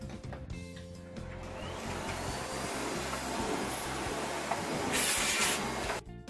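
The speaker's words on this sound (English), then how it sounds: "the first stage is to hoover the room." A vacuum cleaner hoovers a carpeted room ahead of professional carpet cleaning, with a steady, close, continuous motor whine and rushing airflow that holds for about six seconds, rising slightly before cutting off near the end.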